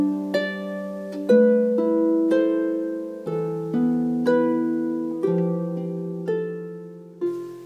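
A double strung harp plays plucked rocking thirds, clear and close, with note pairs alternating in an even rhythm and ringing sustain, alone without talk.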